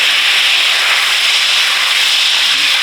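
Fat from smoked turkey stock sizzles in melted butter in a pan, a steady, loud, even hiss that holds without a break and with no voices.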